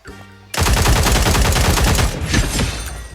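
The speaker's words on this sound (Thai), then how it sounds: "มีใครยิงอีกคนหนึ่ง" Rapid automatic gunfire in the video game Cyber Hunter bursts in loud and close, a dense rattling volley lasting a few seconds before easing slightly at the end.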